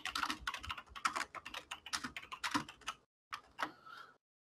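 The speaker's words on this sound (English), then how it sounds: "and then start typing your email." Rapid clatter of keys on a computer keyboard, a busy run of typing that pauses briefly before a few final taps.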